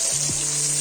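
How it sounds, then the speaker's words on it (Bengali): Onions sizzling in hot oil in a pan for mutton curry, a steady close frying hiss with a brief stir partway through. "এই দেখুন পেঁয়াজটা ভালো করে ভেজে নেব"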